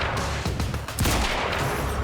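Gunfire in Quantum Break, a dense burst of rapid shots and impacts rolling on without pause, loud and close, with no talking over it.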